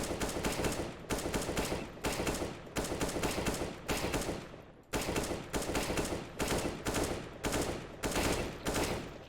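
Rapid bursts of AK rifle fire in CS:GO, loud and close, coming in repeated sprays of roughly one second with short gaps between them, no voices.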